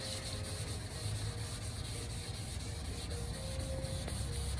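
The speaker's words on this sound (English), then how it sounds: "we're gently going to use the paper on this block" Primer being wet-flatted by hand with wet and dry paper wrapped on a block and soapy water, a steady, close, even rubbing hiss that continues without pause.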